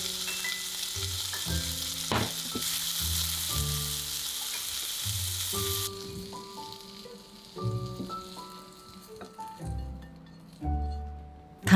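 Salmon and green beans sizzle in a pan under background music, with occasional clinks. The hiss is strong at first, then fades to a quieter fry about halfway through.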